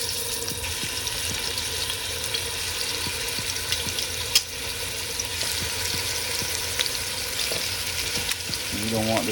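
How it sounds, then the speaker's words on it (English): Goat meat hisses and crackles as it sears in hot oil while curry goat is being cooked, a continuous loud sizzle with occasional spatters and a few stirring knocks, plus a brief water-like splash near the end. "Oh yeah, you hear that sear?"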